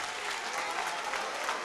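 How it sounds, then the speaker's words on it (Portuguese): A congregation in Cotia breaking into loud sustained applause during a church service, a thick unbroken roar of many clapping hands filling the room. "vamos ouvir agora a melhor salva de palmas que já se ouviu em Cotia"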